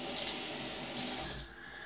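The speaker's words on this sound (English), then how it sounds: "Now I'm going to rinse off" Tap water runs steadily into a sink while shave cream is rinsed off, a close, even splashing hiss that swells briefly near the end before dropping away.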